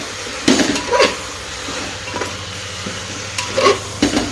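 Pitha fries in a pan in a home kitchen, a soft steady sizzle under a low hum, broken by a few sharp clinks and scrapes of a utensil against the pan; no talking.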